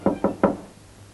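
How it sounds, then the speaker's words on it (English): Three sharp knocks on a door in quick succession, close and clear, followed by quiet. "I knocked and you said yes."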